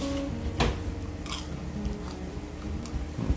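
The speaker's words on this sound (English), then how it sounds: "So I want to hear a crunchy sound." Someone bites into crunchy cooked chicken at a Canadian Thanksgiving meal, making a few sharp, close crunches followed by softer chewing.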